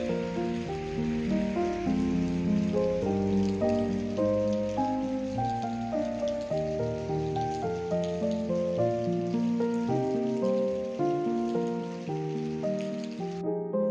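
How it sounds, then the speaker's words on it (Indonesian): Heavy rain pours down on an outdoor parking area at Sembalun, Lombok, a dense, steady hiss and patter throughout. Low tonal hums and other background sounds mix in. "turun hujan lagi dong, dan ini hujannya cukup besar teman-teman"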